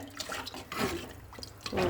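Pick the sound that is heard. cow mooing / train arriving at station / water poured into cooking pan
water poured into cooking pan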